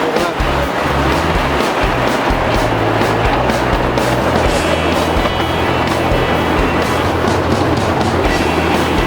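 A mini train rolls along at a loud, constant level with a rumbling run and clattering wheels, a ride on an outing to buy fruit.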